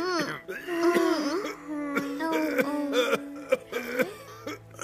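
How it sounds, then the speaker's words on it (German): A cartoon polar bear character coughing in a German children's animated series, a few short rough coughs mixed with whimpering voiced sounds, close and clear over light background music. "Das Husten wird überhaupt nicht besser."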